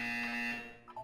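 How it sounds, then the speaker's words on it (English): A steady electronic buzzer tone from the video game Portal 2 sounds alone for about a second, holding a flat pitch before cutting off near the end. "You will hear a buzzer. When you hear the buzzer, look up at the ceiling."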